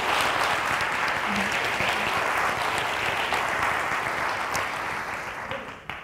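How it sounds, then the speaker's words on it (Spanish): A crowd applauds steadily for several seconds at a presentation event, dense clapping that gradually fades toward the end. "Enhorabuena de verdad y otro aplauso"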